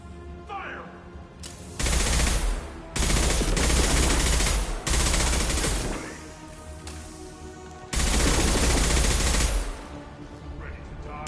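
Sustained automatic gunfire bursts in the Mass Effect 2 battle, heavy rattling volleys starting and stopping in several long stretches, loud and close, with a few brief quieter gaps between them.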